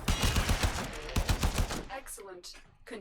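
Rapid bursts of gunfire in the video game Warframe, loud and dense in the first half, then thinning to scattered shots and whooshing effects while a player talks over it.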